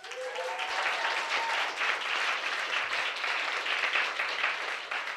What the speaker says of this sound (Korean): 격한 호응의 박수 한번 부탁드리겠습니다